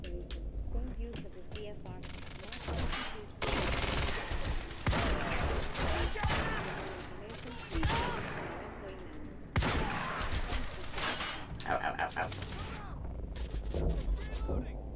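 Gunfire in the video game Quantum Break: loud bursts of shots and rapid automatic fire come in clusters with short lulls, mixed with game sounds and voices at times.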